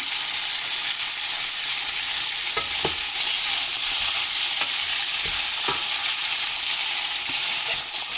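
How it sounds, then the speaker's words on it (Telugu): Dried fish fries slowly on a low flame until browning, a loud, continuous sizzle with occasional scraping stir strokes, with no voices. "ఇది కాస్త బ్రౌన్ కలర్ వచ్చే వరకు వేయించుకుందాం సిమ్లో పెట్టి వేయిస్తే బ్రౌన్ కలర్ వస్తుంది"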